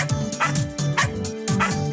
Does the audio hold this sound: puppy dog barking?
yes